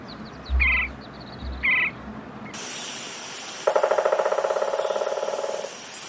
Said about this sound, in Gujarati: લક્કડખોદનો અવાજ કેવો હોય છે?